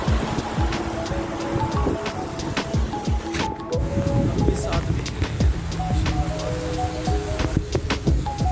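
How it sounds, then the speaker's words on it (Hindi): Rain pouring down in Jeddah during a thunderstorm: a steady, dense hiss with scattered drips and spatters, continuing throughout while a voice talks over it. "जद्दा में जो है बारिश हो रही है"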